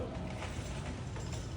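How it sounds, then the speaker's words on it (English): A tracing wheel rolled across pattern paper while transferring jacket pattern corrections, giving a faint, steady ratcheting rasp that runs unbroken for under two seconds with no voices. "I need to use the tracing wheel to transfer it to the bottom"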